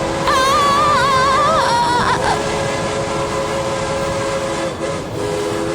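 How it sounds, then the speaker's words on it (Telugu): A train rumbles loudly and continuously nearby, with a wavering horn blast sounding over the first couple of seconds before the steady roar of the rail cars carries on alone. "ఏదో ట్రైన్ శబ్దం వినిపిస్తోంది."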